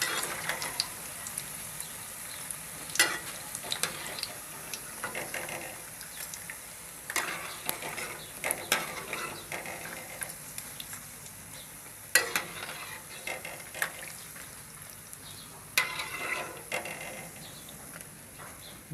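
Pumpkin pakoras fry in hot oil with a steady soft sizzle, broken by occasional scrapes and clinks of a slotted spoon moving through the pan, moderately close with no talking.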